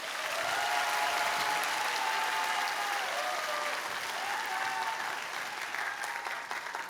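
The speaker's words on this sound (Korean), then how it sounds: "다시 한번 박수 보내주십시오" Congregation in a church during a Sunday afternoon worship service gives a warm, sustained round of applause, dense and even, with a faint tonal hum underneath and no speech.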